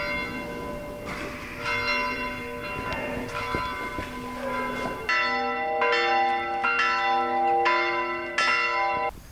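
Church bells ring at the Bobda mausoleum church, with loud repeated metallic strikes whose rich ringing overtones overlap and sustain, the pealing continuing steadily for the whole stretch.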